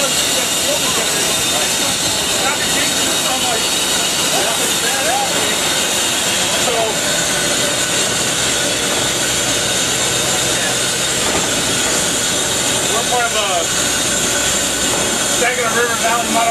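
Pere Marquette 1225 steam locomotive taking water into its boiler: a loud, steady roaring hiss of steam throughout, with people talking over it.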